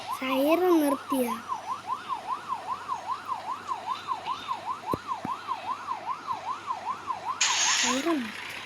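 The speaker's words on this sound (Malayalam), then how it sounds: "സൈറൻ" Emergency siren in the Rope Hero video game, a steady rising-and-falling wail repeating about every half second for several seconds, loud and close, with brief game sounds and a voice at the start and end.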